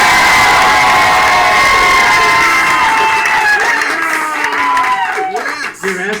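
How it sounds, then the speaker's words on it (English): A game-show studio audience roars with cheering, shouting and some clapping, a loud sustained crowd noise that gradually thins out toward the end. "If you guys enjoy the game and you want to see Wafik earn points for that game, applaud now!"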